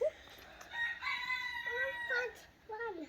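A very large chicken makes drawn-out, throaty clucks and a crowing-like call, close and fairly loud in a quiet setting.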